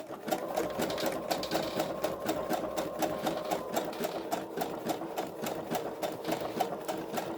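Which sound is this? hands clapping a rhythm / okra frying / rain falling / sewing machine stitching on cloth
sewing machine stitching on cloth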